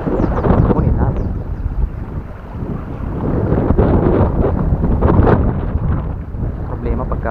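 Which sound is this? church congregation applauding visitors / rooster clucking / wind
wind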